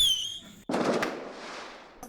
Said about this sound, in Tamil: எல்லாம் தீபாவளிக்கு வெடி எடுக்கிறான்